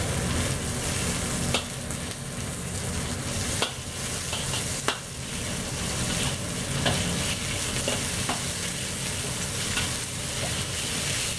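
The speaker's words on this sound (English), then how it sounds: "So you just fry them up, just slowly." Shrimp fry slowly in a pan for Cantonese chow mein, giving a steady, close sizzle with occasional sharp clicks and taps from a utensil stirring and separating them.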